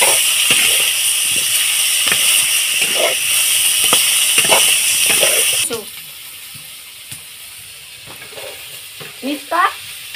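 Chopped onions sizzle loudly in a hot pan while cauliflower curry is being made, with a steady frying hiss, intermittent stirring scrapes and clinks, and the sizzle dropping to a softer crackle partway through.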